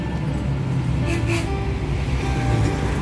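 Busy Bangkok street traffic near a traditional building complex, where a tuk-tuk passes amid engine rumble, with a couple of brief horn toots in the middle.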